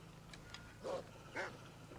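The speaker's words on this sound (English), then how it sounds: "Oh, it's a black wolf." Two short growling yelps from a black wolf in Assassin's Creed Odyssey, close but faint, over a quiet humming game background.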